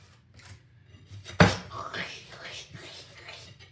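Butter spread on bread with a knife at a breakfast of bacon and eggs: one sharp scrape or knock, then soft smearing strokes against quiet kitchen background.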